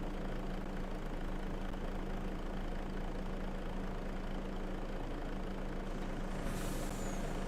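A heavy truck idles steadily in Farming Simulator 25, its engine droning low and constant, before a sharp hiss of air brake release near the end, with no talking.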